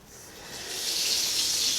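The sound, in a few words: sink tap water running into drain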